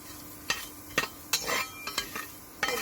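Pumpkin seeds being stirred in a frying pan, a spoon scraping and clinking against the pan in a handful of sharp, separate strokes over a faint low sizzle, close and fairly quiet with no talk.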